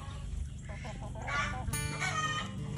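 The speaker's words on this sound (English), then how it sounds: "Just got to get the chickens" Chickens cluck and squawk nearby on a farm, a busy mix of overlapping fowl calls over a low background rumble.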